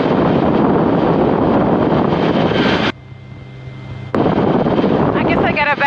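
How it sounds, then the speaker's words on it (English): Strong wind roars and buffets loudly around a Rotorway helicopter in flight on a gusty day over water, drops briefly to a low engine hum, then surges back. "It's windy out today."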